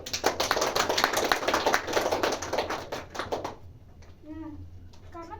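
Classroom applause for a student after a correct answer, a burst of dense clapping from a group of students that stops abruptly, followed by a teacher's voice speaking.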